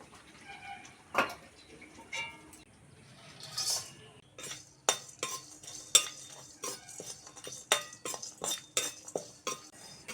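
Whole spices — cumin, chilli, black cardamom, peppercorns, nutmeg and mace — dry-roasted together in a pan, with a run of close, uneven ticks, clinks and scrapes as a utensil stirs them against the metal.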